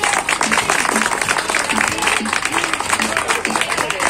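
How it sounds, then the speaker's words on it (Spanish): Theatre audience at an independent theatre event applauding, a dense continuous wash of clapping that holds at a steady level throughout, with a voice speaking over it. "Un fuerte aplauso a ustedes mismos."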